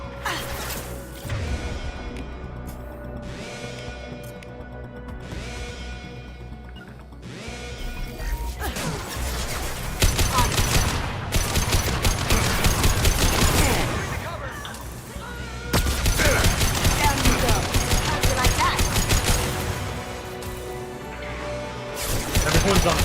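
Inferno-round gunfire in Mass Effect 2 fills a dense, loud firefight with bursts of shots and crashes over steady game noise, growing heavier partway through, with a voice speaking briefly.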